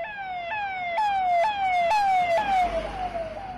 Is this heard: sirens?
yes